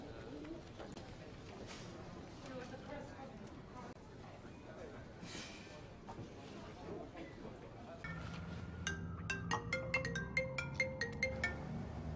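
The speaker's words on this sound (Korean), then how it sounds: "벤에게 걸려온 전화." Partway through, a phone ringtone chimes in a bright, repeating melodic pattern over a murmur of background ambience and soft cooing.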